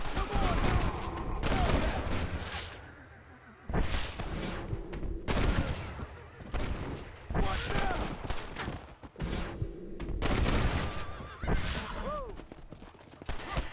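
Repeated gunshots crack out in short bursts during Red Dead Redemption gameplay, separated by pauses in which someone talks and reacts.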